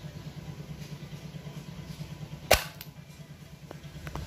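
A toy suction-cup plunger pistol fires once with a single sharp snap and a quick rattle after it, set against a low steady hum, with faint ticks following.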